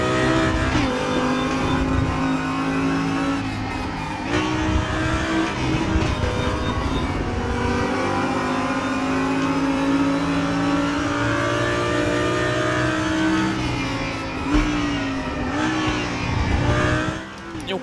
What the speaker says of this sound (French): Un peu laisser profiter du son, hein, de la sonorité de cette Audi R8.